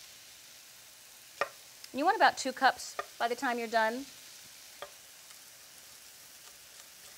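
Mushrooms and broccoli sauté in a pan with a low, steady sizzle running beneath someone talking at close range.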